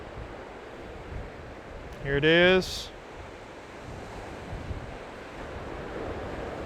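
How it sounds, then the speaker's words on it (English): Ocean waves wash onto a shoreline in steady, windy surf that fills the scene, with someone speaking briefly over the rolling water. "Wait for some waves to come up again."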